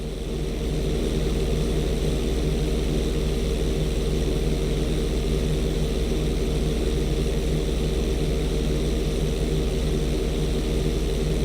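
A propeller airplane in GTA V roars steadily on takeoff from the runway, its loud engine drone holding constant from start to finish with no talk over it.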